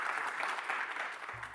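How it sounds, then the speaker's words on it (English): Audience applause at an academic conference session, steady dense clapping from a crowd that carries on evenly throughout at moderate loudness, with no voices over it. "Can we give them all a round of applause?"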